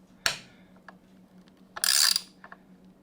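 Ratcheting on 4 mm Allen screws fixing heel guards to a Yamaha R1's rearsets, two short bursts of quick close clicking with faint ticks between.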